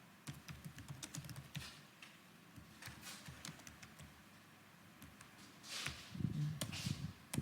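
Steady run of key presses on a computer keyboard while entering data in a spreadsheet, quick and irregular, close and quiet, with no voices.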